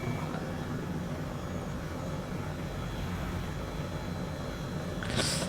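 Red Bull-liveried Airbus H135 helicopter in Microsoft Flight Simulator 2020, over the Sepang F1 racing track: a steady, dense engine and rotor drone that holds at an even loudness throughout, with a brief brighter hiss near the end.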